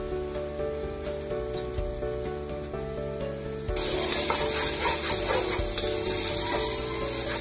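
Soaked mung dal hits hot spiced oil halfway through, the quiet kitchen hum giving way to a sudden, steady loud sizzle that crackles on to the end.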